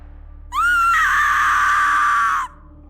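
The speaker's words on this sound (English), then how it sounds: "You let out that scream," A person screams in fright, a single loud, sustained, high-pitched shriek lasting about two seconds that starts suddenly and cuts off cleanly over faint background hum.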